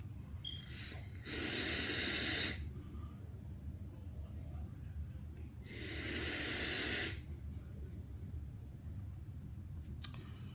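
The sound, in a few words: vaping on a sub-ohm vape tank, airflow hiss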